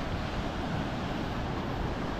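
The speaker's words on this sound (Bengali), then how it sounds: "তাজপুরে কিন্তু বিশাল বড় বড় ঢেউ আছে।" Large ocean waves rolling onto Tajpur sea beach make a steady, broad roar of surf, continuous and full without pause, with some wind buffeting the microphone.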